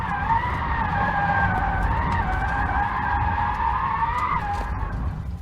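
Continuous loud tyre squeal from a Rimac Nevera drifting, a sustained wailing screech that shifts pitch slightly and holds over a rumbling roar throughout.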